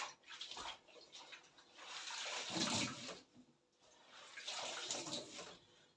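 Freshly cut mint being washed under running water, with uneven splashing and gushing in bursts and brief pauses, fairly faint and alone.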